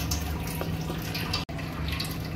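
Water streams steadily into ground lentil batter for dosa, a continuous close pouring and splashing sound with no pauses except one brief cut.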